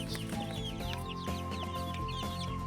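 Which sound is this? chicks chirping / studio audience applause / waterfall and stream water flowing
chicks chirping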